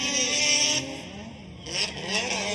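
Mazda RX-7 FD drift car on a Formula Drift Japan qualifying run at Ebisu, its engine howling loud and close with revs dropping mid-pass then surging again amid sliding tire noise.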